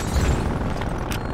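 A Semtex grenade detonates in the shooter game Black Ops Cold War, a loud, close boom with a rumbling low-end body and a brief sharp crack near the end.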